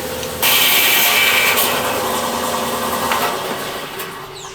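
A rock saw cuts through a massive Mexican Laguna agate, a loud, steady grinding whine that starts abruptly and holds close and constant, fading slightly toward the end, with no voices.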